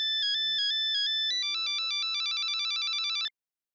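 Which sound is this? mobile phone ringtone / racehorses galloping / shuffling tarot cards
mobile phone ringtone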